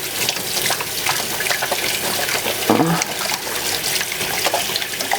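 Tap water runs steadily into a sink during handwashing, a continuous splashing rush with a brief louder gush partway through, while a voice talks over it.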